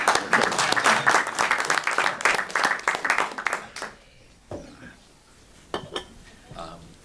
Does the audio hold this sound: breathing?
no